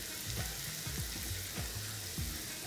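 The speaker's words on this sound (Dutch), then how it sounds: "Witlof is nu 2 minuutjes aan het bakken." Chicory sizzles in butter in a pan over medium-high heat, seasoned with cane sugar and salt: a steady, close frying hiss with faint soft knocks from the pan underneath.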